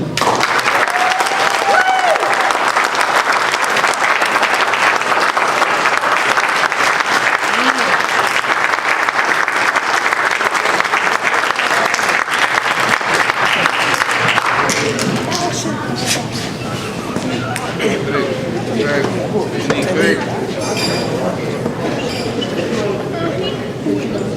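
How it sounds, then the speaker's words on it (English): Loud, sustained audience applause fills the hall after a keynote speech, a dense steady roar of clapping that continues without letup and thins slightly toward the end, with voices mixed in beneath. "I would just like everyone to give her another round of applause."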